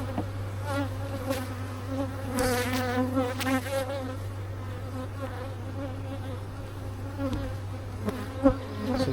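Honeybees buzz close by in an open nuc hive, a dense, wavering drone with individual bees swelling louder as they pass near, over a low steady background hum.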